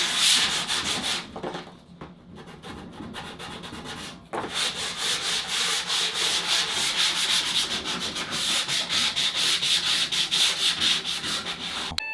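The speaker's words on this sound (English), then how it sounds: "So we're gonna use nail files." A 180-grit nail file rubs back and forth across a surface in a steady, close, rasping scrape with fast repeated strokes, briefly pausing near the start, then continuing evenly to the end with no voices.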